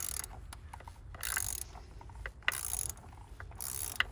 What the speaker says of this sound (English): using a 1 1/4 inch socket onto that oil filter,